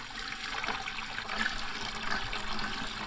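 A brine of apple cider vinegar, white vinegar and water for pickling eggs, poured as a steady splashing, gurgling stream, close and continuous for a few seconds without speech.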